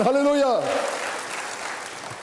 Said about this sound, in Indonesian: berikan sekali tepuk tangan bagi Tuhan